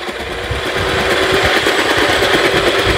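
Food processor chopping over half a kilo of onions, a loud, steady whirring motor buzz with rapid rattling blade chatter, continuous throughout without speech.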